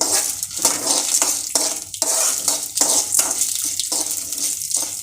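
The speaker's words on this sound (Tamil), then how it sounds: "இப்போது இதை போட்டுட்டு நல்லா கொஞ்சமாக எண்ணெய் ஊற்றி வறுத்துடணும்." Red chilli and asafoetida frying in a little oil, with a bright crackling sizzle broken by rhythmic scraping and clattering stirs against the pan.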